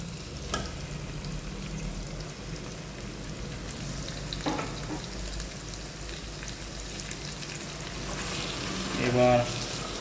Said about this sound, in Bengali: এবার এইভাবে হালকা হাতে চিকেনটাকে বেশ করে, যেমন বেঙ্গলি চিকেন কষা বানায় সেইভাবে আপনাদের কন্টিনিউয়াসলি ভুনতে হবে